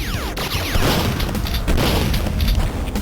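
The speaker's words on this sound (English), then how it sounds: "like the grenade launcher is nice, but it's like it. See, it has that arc." Grenade launcher blasts in the Duke Nukem 64 game, a loud booming rumble with repeated heavy explosive thumps over about three seconds, no voices.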